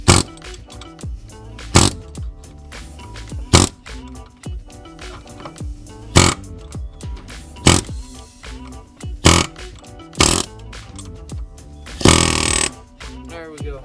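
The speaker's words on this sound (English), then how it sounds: "take the air chisel and you can just stick it on top of the" An air chisel knocks at the engine fan of a 5.3 Silverado during teardown, firing in short loud bursts roughly every two seconds, with a longer rattling burst near the end and quieter clanks in between.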